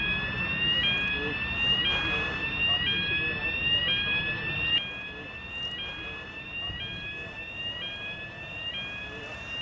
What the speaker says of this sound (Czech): Jakmile uslyšíte požární alarm, okamžitě se evakuujete sem na hlavní shromaždiště před turniketem.